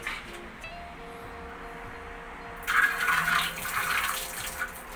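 Water being refilled into a container used for growing water spinach (kangkong), first a quiet trickle, then a louder rushing pour that starts midway and keeps splashing to the end, with no talking.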